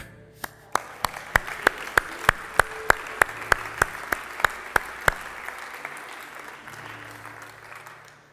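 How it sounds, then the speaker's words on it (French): Steady applause from a crowd, with loud, evenly spaced claps rising above the general clapping for several seconds before thinning out. "je crois que c'est un bon moment pour applaudir."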